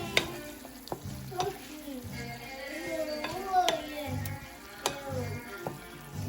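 Shrimp cook in a pan of gravy for a West African pancake, giving a steady sizzle with scraping stir strokes and a few sharp clinks of a utensil against the pan, close and moderately loud.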